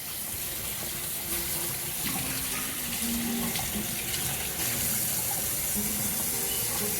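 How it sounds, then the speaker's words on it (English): Hands washed under a running kitchen sink tap: a steady, soft stream of water splashing continuously throughout, fairly quiet, with no talking. "Let me wash my hands."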